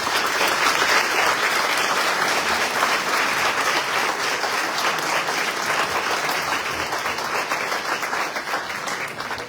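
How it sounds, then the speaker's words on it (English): Steady, full-room applause for the candidates at a mayoral debate in Meridian, Mississippi, continuous clapping from many hands that holds at an even level throughout and eases slightly toward the end. "you guys can give them applause for their participation"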